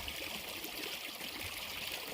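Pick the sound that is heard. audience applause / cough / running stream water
running stream water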